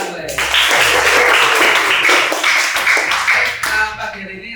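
Classroom of students clapping during a morning lesson, a dense, loud burst of applause that sustains for several seconds before tapering off, with voices mixed in.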